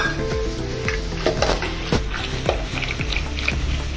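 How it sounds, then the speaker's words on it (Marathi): Buttermilk mixed with gram flour is whisked for kadhi, giving repeated rhythmic swishing and clinking strokes in a pot, close and steady with a faint background hum. "त्यामध्ये हे मी अर्धी वाटी बेसन सोडून परत घुसळून घेते छानपैकी"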